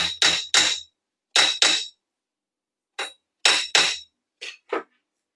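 A domed clock gear is hammered flat on an anvil: three groups of sharp metallic taps, two or three strikes each, close and crisp with silence between.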